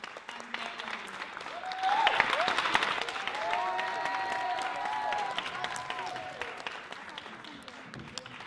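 A theater audience at a Shakespeare monologue and scene contest breaks into steady applause that swells after a couple of seconds and holds, with faint voices and cheers mixed into the clapping.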